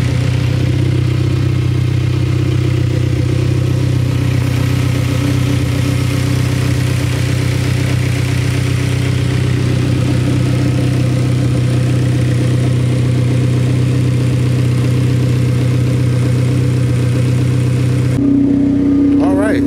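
A K-series Honda Civic's engine idles steadily after being restarted, a low continuous hum that holds through the whole stretch before shifting near the end.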